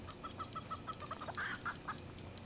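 Chicken clucking in the video game Moving Out, a quick run of small rhythmic clucks rising into a louder squawk, faint over a steady background of game music and noise.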